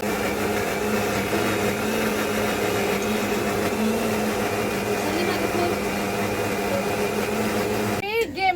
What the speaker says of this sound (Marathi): मिक्सरचा जरा खरखर यायला लागलाय